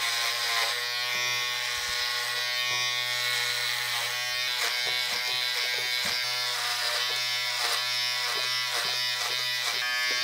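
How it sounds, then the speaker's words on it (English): Electric hair clippers buzz steadily and close-up through a haircut on long hair, with the tone shifting slightly as the blades move through hair; no talking. "we're starting the clipper work now"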